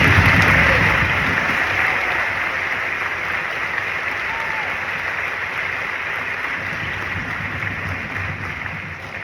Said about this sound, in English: So I'd like us all to give an applause for band directors and families.